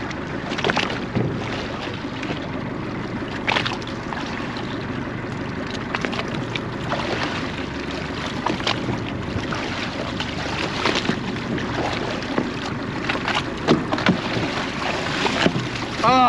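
A boat passing overhead heard from underwater on a dive, a muffled continuous churning rumble with bubbling and crackle, fairly steady and close.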